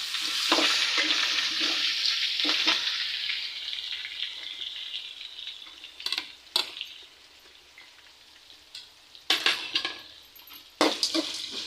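Curry leaves hit sautéed onion in a hot pan while making pori upma, setting off a loud, crackling sizzle that gradually fades, followed by sharp spoon scrapes and clinks against the pan, close and without talk.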